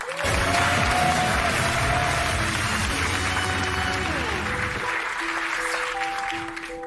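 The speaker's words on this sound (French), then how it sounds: "Applaudissements." A television studio audience applauds loudly and steadily before a two-person magic act on a French talk show, with sustained music tones running beneath the clapping and fading slightly toward the end.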